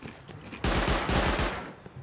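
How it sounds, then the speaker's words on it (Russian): A loud, rapid burst of automatic gunfire in the survival game Rust rattles off for under a second, followed by quieter ambient game sound. "Вот это выстрелы."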